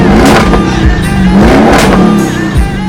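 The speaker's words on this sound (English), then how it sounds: "Thanks to a 4-litre twin-turbo V8, it's able to produce an impressive 560 brake horsepower." Audi RS7's 4-litre twin-turbo V8 revving hard and close, a loud continuous engine roar with rising and falling pitch sweeps over about three seconds, no talking.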